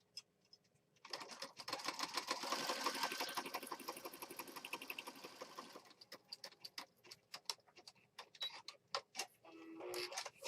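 Sewing machine stitching layers of a handmade apothecary junk journal: a dense, steady run of rapid needle strokes up close, then stopping and restarting in short clicking bursts toward the end.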